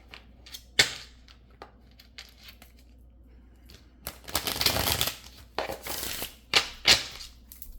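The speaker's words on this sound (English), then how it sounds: "All right, let me shuffle these." A deck of tarot cards is shuffled by hand: scattered light ticks and taps, then two dense riffling bursts near the end, close and fairly quiet.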